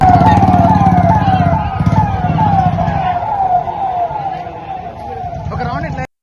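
A loud emergency siren from a minister's convoy of about 15 cars wails in quick repeated rising sweeps, with low rumbling traffic noise beneath it.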